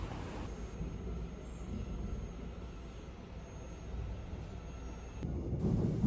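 Steady low rumble and hum of a subway train in motion, heard from inside the car, with a brief rise in noise near the end and no speech.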